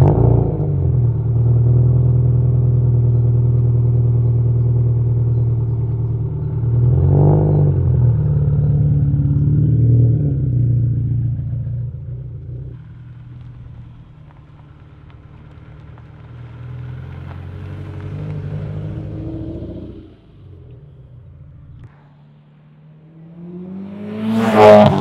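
A Subaru Impreza WRX STI engine runs loud and close, holding a steady low drone with a brief rev blip partway through, dropping to a quieter idle and then surging again at the end.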